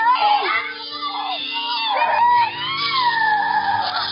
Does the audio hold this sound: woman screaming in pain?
yes